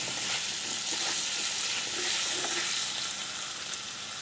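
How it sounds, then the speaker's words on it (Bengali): Potato pieces seasoned with salt and turmeric frying in oil in a pan: a steady, close sizzle and crackle with faint stirring scrapes, continuous at moderate loudness and no talk. "আলুটাকে ভেজে নেব, একটু লাল করে ভেজে নেব আলুটাকে।"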